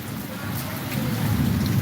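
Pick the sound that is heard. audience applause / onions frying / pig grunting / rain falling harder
rain falling harder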